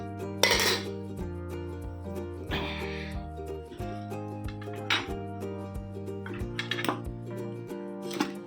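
A spoon clinks and scrapes against dishes in repeated bright metallic taps and rattles, close and moderately quiet, over a steady low tonal hum.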